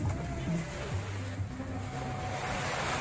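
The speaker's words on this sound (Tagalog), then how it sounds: "malakas talaga yung alon mga kalakbay dito" Strong surf along the seawall of Legazpi City Boulevard under a southwest monsoon wind, a steady loud wash of breaking waves with wind rumble, close and continuous, no talk.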